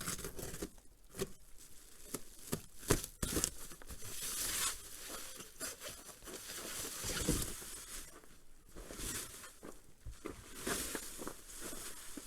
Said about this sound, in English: now we'll unwrap it